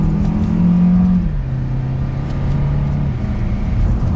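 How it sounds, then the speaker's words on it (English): A 2022 Kia K5 LX shifted manually into second gear while driving: steady engine hum and road rumble inside the cabin, with the engine note dropping in pitch as the gear changes, no talking. "We're gonna drop it into a second gear."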